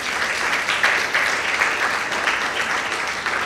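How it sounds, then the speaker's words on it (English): An audience at a discussion event gives a steady, dense round of applause lasting a few seconds, with no voices over it. "I believe she deserves another round of applause for that story"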